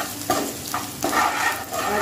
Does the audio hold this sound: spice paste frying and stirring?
yes